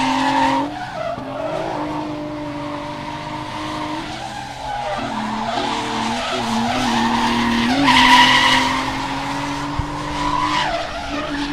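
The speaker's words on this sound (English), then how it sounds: "Sounds of the tortured 350Z." A Nissan 350Z engine revs hard during drift competition qualifying while tires squeal and skid continuously, loud and close, rising in intensity toward the middle.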